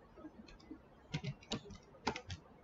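Code being typed on a computer keyboard while writing an Android Java try-catch block, with scattered quiet clicks building into short bursts of close keystrokes.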